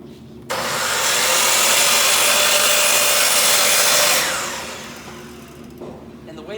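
A power saw trims a small piece off wooden lamp table legs in a woodworking shop: one loud, steady cut of about three and a half seconds, then the blade winds down into quieter background noise.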